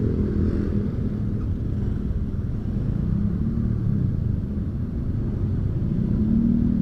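Heavy stop-and-go traffic jam in Parung, Bogor, with cars and motorcycles: a steady, close low engine rumble with idling motors, no voices.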